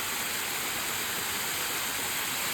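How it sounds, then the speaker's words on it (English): A waterfall near a house roars in a steady, continuous rush of broadband water noise, close and unbroken throughout. "So this waterfall is about 15 minutes from our house."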